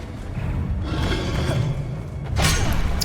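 A Confringo fire spell bursts in Hogwarts Legacy combat, a loud blast swelling near the end over steady low game noise and music, with a brief shout at the start.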